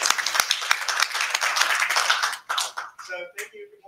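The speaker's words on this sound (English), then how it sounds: "Round of applause." Audience clapping for a speaker on an artificial intelligence revenue talk, a brisk round of applause with sharp individual claps that tapers off, followed by a voice beginning to speak.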